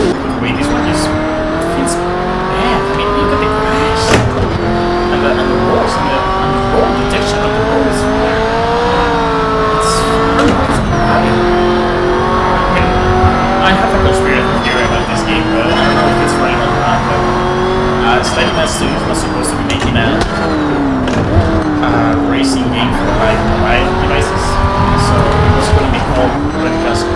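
Race car engine revving steadily in Project Cars 3 with shifting pitch and occasional tire squeal and skidding, loud and continuous for the whole stretch while a player talks over it.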